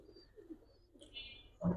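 Giribaz and coloured pigeons on a farm coo faintly in short, low bursts, ending with a louder close flutter or call.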